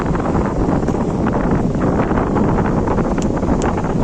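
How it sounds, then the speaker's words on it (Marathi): Strong wind roars continuously against the microphone at Varsoli beach, Alibag, with a rough, surging sea, a loud, dense rushing with no pauses and no voices. "वारा सुद्धा सुटलेला आहे"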